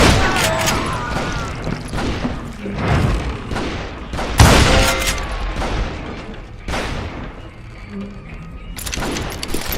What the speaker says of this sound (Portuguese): Caraca, mano, é tiro pra todo lado.